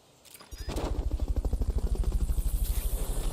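Helicopter from the Fulton recovery in Metal Gear Solid Peace Walker: a steady, fast rotor thump that swells in within half a second and keeps beating evenly, close and loud, with no voices.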